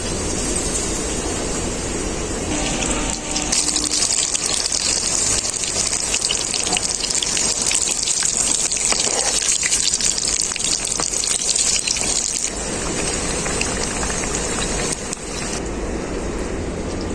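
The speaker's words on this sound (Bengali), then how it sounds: "তেলটা খুব ভালোভাবে গরম হয়ে গেছে এরপর বেগুনগুলো ব্যাটারে এভাবে ডুবিয়ে নেব এরপর দিয়ে দেবো তেলের মধ্যে" Batter-coated eggplant slices (beguni) fry in hot oil, giving a loud, continuous bubbling hiss that swells and eases slightly without a break, with no voices.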